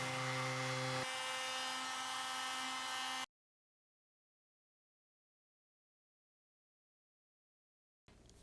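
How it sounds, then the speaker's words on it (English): A power tool whines steadily while chamfering sharp edges on a Corian tabletop, loud and continuous for about three seconds before cutting to silence, with a brief burst of sound at the very end. "so these edges are really sharp, so I'm gonna put a chamfer, a very small chamfer on both top and bottom surfaces"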